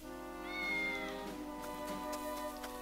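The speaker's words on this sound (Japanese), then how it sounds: "猫がまたいる。" A cat meows in the video game Triangle Strategy, a drawn-out, rising-and-falling call over steady game music, clear and moderately loud.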